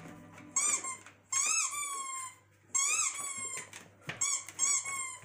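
A played recording of a dog squeaking, high whiny squeals in several bursts with short gaps between, clear and fairly close over a quiet room hum.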